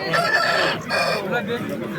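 Roosters crow loudly and close by at a busy poultry market, one drawn-out call following another with clucking fowl mixed in.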